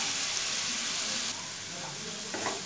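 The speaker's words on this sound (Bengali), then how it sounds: "হিটটা কমিয়ে 2 মিনিটের মতো মশলাটা আমি কষিয়ে নেব" Spice paste masala sizzles and fries steadily in a pan on low heat, a constant close hiss with a faint stir or scrape near the end.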